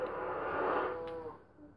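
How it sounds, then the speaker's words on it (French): A cow in the video game Minecraft gives a single drawn-out moo, close and clear, tapering off toward the end with no talking. "On voit bien qu'il y a une vache qui veut y aller."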